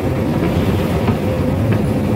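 Train rumble at a station on the line to Tung Chung, a steady loud low drone with faint clatter running throughout, no voices.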